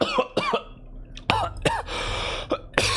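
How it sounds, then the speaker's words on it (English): Loud, rough coughing from a character in the video game Pathologic 3, several sharp bursts spread across a few seconds, with throaty hacks standing out over a quiet in-game background. "Ooh, big cough."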